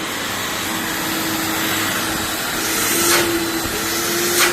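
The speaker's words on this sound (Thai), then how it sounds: "เทสเครื่องดูดฝุ่น 80ลิตร3มอเตอร์สีเหลือง" A yellow 80-litre vacuum cleaner with three motors runs continuously during a test before delivery, giving a loud, steady whooshing roar with a constant whine. Faint brief clatters come through near the end.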